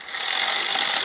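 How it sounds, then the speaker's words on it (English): A ratchet wrench tightening suspension bolts on a supercharged Mercedes AMG, one quick rapid clicking burst lasting about a second, close and fairly loud. "I will finish torquing those down"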